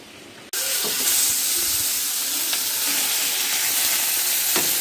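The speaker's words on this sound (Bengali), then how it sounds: "এখানটায় মাছ ভাজা চলছে" Fish frying in hot oil at an outdoor family picnic, a steady loud sizzle that bursts in after a brief quiet start and hisses continuously, with faint scrapes of stirring.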